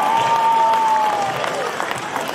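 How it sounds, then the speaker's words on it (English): Crowd applause fills a gym at an under-20 Division 1 basketball grand final on a Friday night, a steady dense clapping throughout with a whistle-like tone early on. "How good is this crowd?"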